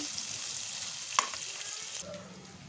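Ingredients fry gently in oil for a curry while being stirred, a soft steady sizzle with a single sharp clink of a utensil against the pan, fairly quiet.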